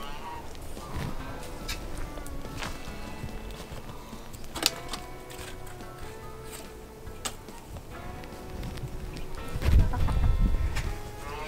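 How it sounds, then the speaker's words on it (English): A small farm rooster clucks in soft, scattered calls over a busy outdoor background, with a louder low rustle near the end. "And that little rooster that we have,"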